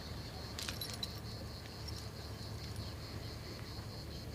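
Car keys jangle briefly in a garage, a quick metallic jingle near the start and then a few faint clinks over a low steady hum.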